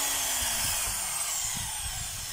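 A power drill running in hammer mode, a loud continuous high whirring drone with a rapid rattling pulse underneath, steady and close for the whole stretch.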